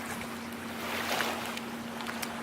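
Flowing water moves gently in the background, a soft continuous wash with scattered small splashes and a faint steady hum, fairly quiet and without any voices.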